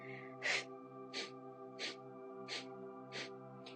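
Rapid yoga breath of fire, sharp nasal exhalations in a steady rhythm of about one every 0.7 seconds, close and moderately loud over a sustained musical drone.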